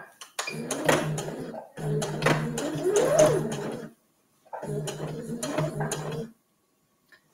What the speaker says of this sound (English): we're just going to stitch this whole circumference.